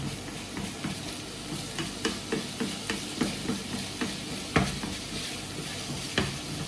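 Chicken seasoned with basil, rosemary and oregano browns in a pan with a steady sizzle, punctuated by regular spatula taps and scrapes against the metal; no voices.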